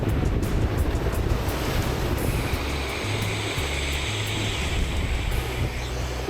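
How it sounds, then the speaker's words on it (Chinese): Sea waves crashing against coastal rocks in stormy weather at a Hualien campsite, a steady roaring wash of surf mixed with wind on the microphone, continuous and fairly loud. "海水拍伫咧石头仔顶面的声。"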